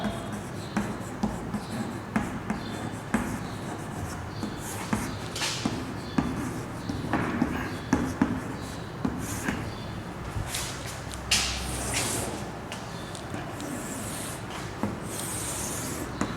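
Chalk or marker scratches and squeaks across a classroom board while a table is written out, irregular strokes and taps continuing for many seconds with faint room noise and no talk.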